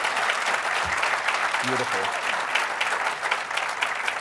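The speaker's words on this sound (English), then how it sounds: "Can I get a round of applause?" An audience at a community engagement awards ceremony claps steadily in a dense, sustained round of applause, with a brief spoken word heard over it.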